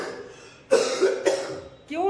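Several harsh coughs come in quick succession, close and loud, with a short pause before a final cough.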